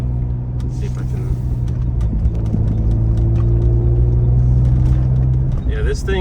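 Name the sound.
Ford Explorer ST driving through a turn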